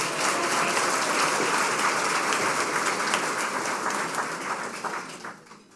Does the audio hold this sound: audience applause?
yes